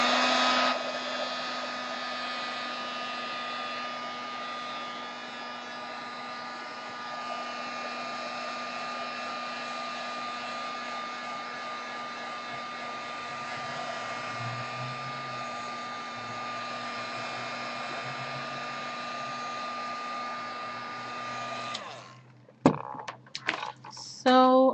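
A hair dryer blows steadily up close for about twenty seconds to dry a mixed media artwork, a constant airy whine that then cuts out, followed by a few brief handling knocks and clatter.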